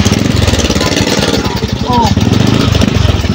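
A motor engine runs steadily with a rough, rapid knocking pulse, loud and close throughout, while people talk over it.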